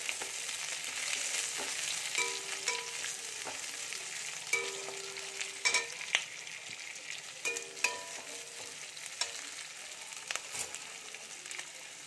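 Onion petals sizzle and fry steadily in a pan for chilli paneer, a continuous close hiss broken by occasional stirring scrapes, with no voices.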